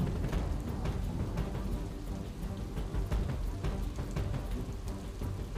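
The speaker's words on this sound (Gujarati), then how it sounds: "જૂનાગઢના મેંદરડા તાલુકામાં 2 કલાકમાં 3 ઇંચ વરસાદ વરસ્યો" Heavy rain pours down steadily in Junagadh, Gujarat, a dense continuous hiss of drops on surfaces with scattered sharper spatters, fairly faint and unbroken, with no voices.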